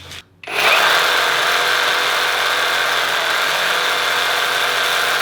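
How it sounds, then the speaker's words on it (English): A Sawzall reciprocating saw cuts through a Dana 60 rear axle housing tube. It starts after a brief pause, then holds one steady, harsh, buzzing rasp of blade on steel, close and loud, with no voices. "So we're gonna take our Sawzall and just make a clean cut right here."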